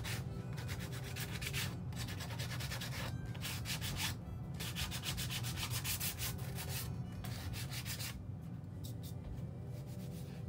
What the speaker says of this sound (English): focus on the edges and the corners and then just do kind of a light sanding on the fronts of them